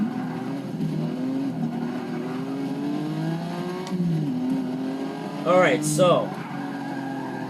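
A Porsche supercar revving in the Forza 6 racing game, a steady engine drone that rises and falls, with a brief squeal near the end while someone talks over it.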